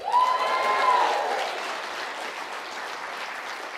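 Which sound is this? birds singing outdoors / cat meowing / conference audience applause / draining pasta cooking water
conference audience applause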